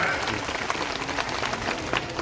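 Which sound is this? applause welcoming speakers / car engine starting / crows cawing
applause welcoming speakers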